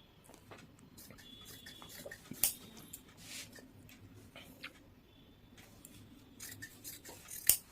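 Scissors cut petticoat fabric in short, quiet, intermittent snips and rustles, close up, with a few sharper snips standing out.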